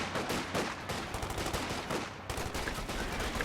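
Dense, rapid gunfire from the Company of Heroes 2 strategy game, a US versus OKW match: continuous overlapping bursts of automatic weapons with sharp individual shots, loud and unbroken, briefly thinning for a moment before resuming.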